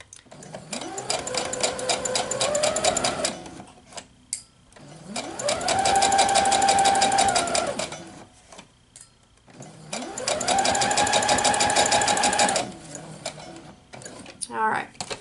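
Sewing machine chain piecing quilt pieces, running in three long stitching bursts separated by short pauses, close and loud with a rapid mechanical rhythm.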